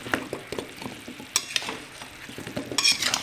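Amla and jaggery syrup with ghee being stirred in a pan: a steady sizzle with repeated scraping strokes of a spoon, close and moderately loud, with no talk.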